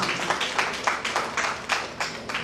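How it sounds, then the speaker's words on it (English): Applause at an Inner Wheel Club meeting, a crowd clapping in a fairly steady wash with periodic louder swells, moderately close and without speech over it. "Give a big round of applause"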